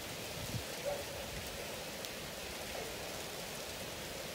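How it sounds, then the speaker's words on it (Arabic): Steady rain falls in Egypt in a soft, even hiss, with a faint voice briefly audible underneath. "بص الدنيا بتمطر"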